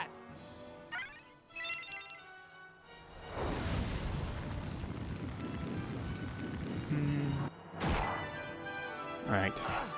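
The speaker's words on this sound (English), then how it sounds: "let's try a Burn Flame" Burn Flame fire spell cast in the video game Grandia: a loud, sustained roaring whoosh and crackle with booming bursts that runs for several seconds over game music, with no talk during it.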